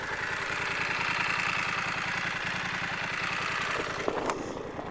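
A 2023 BMW F 900 XR motorcycle engine runs steadily with a regular low throbbing pulse, heard up close from the rider's position with wind noise, and a brief click or knock near the end.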